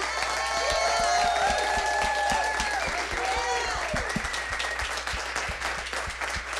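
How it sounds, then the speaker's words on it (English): An audience applauds after a panel discussion at a creator industry event, steady clapping with some cheering, while tonal music plays loudly over the top. "let's give a round of applause for that incredible panel discussion"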